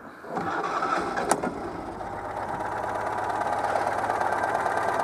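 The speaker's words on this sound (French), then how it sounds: "maintenant que la bobine est chaude, je vais voir si elle démarre mieux" A Citroën 2CV AZLP6 engine with a new, warmed-up ignition coil cranks briefly and catches quickly, then settles into a steady, loud, close-up idle.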